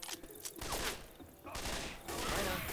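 Bursts of Left 4 Dead 2 gunfire crackle in quick volleys, fairly quiet, with brief gaps between them.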